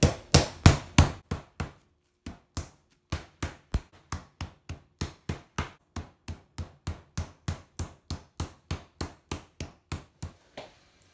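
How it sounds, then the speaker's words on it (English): Chicken breasts are pounded flat between plastic wrap with the smooth side of a meat mallet, a long series of sharp, evenly spaced thuds, louder at first and then steady and moderate, with a short pause near the start. "start just hammering a little bit"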